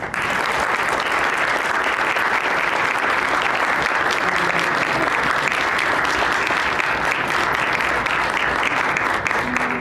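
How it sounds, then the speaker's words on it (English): Dense, sustained applause fills the hall at an animation launch event, a big audience clapping loudly and evenly for about ten seconds without letting up. "And now I want you really to give a wide round of applause."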